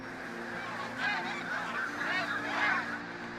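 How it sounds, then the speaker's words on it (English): A flock of geese honking, arriving from the Arctic after nesting over summer, with overlapping calls at moderate distance that swell and fade over a steady outdoor ambience. "The geese are arriving from the Arctic"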